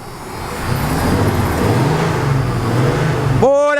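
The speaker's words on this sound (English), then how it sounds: "Let's rev it up a little bit," A 1994 Ford F150 XL pickup with a V8 engine holds a loud, steady idle-to-rev drone for several seconds, then a sharp rising rev swells near the end, with nobody talking.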